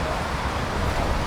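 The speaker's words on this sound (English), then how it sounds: "Conditions are a little bit windy, but we're having a good day at the waterfall" Strong wind buffets the microphone beside a waterfall in Iceland, a dense, steady roar of rushing air mixed with falling water, loud and continuous throughout.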